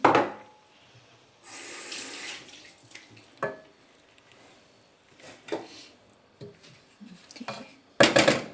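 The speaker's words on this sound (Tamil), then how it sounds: "புளிக்கரசல் எடுத்து வச்சுருக்கிறேன் புளி விட போகிறேன்" Tamarind water pours and splashes into a pot in a few bursts while making fish curry, with clinks and knocks of kitchenware between them, fairly close and moderately loud.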